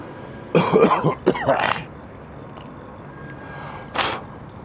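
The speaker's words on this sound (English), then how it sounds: "Yep, been coughing up a lung." A person coughing nearby in a harsh, clustered burst of several coughs, then a pause and a single sharp cough a few seconds later.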